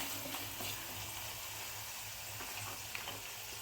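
Kashmiri chili stirred into a pan while making mango ginger pickle, giving a steady close sizzle with soft scraping strokes of the spoon throughout.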